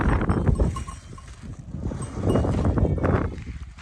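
Cowbells clank irregularly amid a flock of sheep, with occasional bleats and shuffling outdoors, fairly close and steady throughout.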